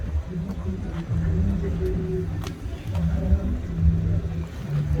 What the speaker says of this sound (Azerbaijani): Bu da maşının arxa səsi.